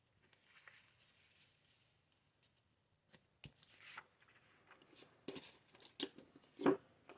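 Scissors cut the top off a sheet of paper for a Christmas journal: quiet rustling handling at first, then a series of sharp close snips and paper crackles that get louder toward the end.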